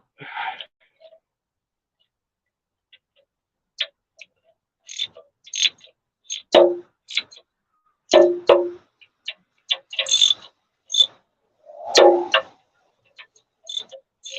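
A quarter-inch ratchet tightening bolts under a truck, with sharp, close clicking bursts that come in irregular groups separated by silent gaps.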